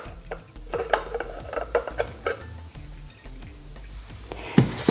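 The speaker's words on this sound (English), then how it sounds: "This screws off, of course, and then you get to change your plates as you wish." Part of a KitchenAid pasta press attachment is unscrewed by hand, giving a run of close, small metallic clicks and ticks. A louder clunk comes near the end.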